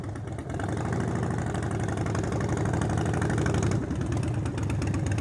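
Motorcycle engine with a longer rake idling and burbling steadily through advanced slow-speed riding practice, a close, continuous low rumble with a slight dip near the end.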